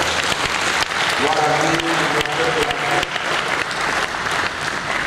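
Congregation applauding in a church during a mourning ceremony, steady broadband clapping throughout, with a voice speaking and sung tones rising over the applause.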